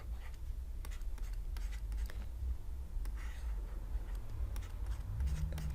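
Pen or pencil writing on paper during a Year 7 maths lesson on sequences, a steady close scratching with short strokes and brief pauses, set over a low room hum with no talk.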